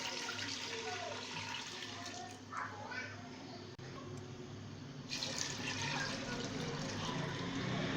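Water, 1.5 litres, pours steadily into a cooking pot of washed chana and mash lentils, a continuous faint splashing rush that grows brighter partway through.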